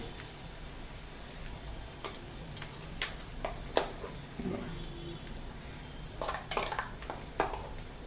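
Ground coconut masala paste with turmeric sautéing in oil in a pan for a drumstick-pod curry: a faint, steady sizzle with occasional clinks and scrapes of stirring.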